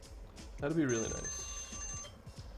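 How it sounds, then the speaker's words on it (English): An alarm rings with a steady high-pitched tone lasting about a second, close and moderately loud, while a person speaks over its start. "And that's my alarm,"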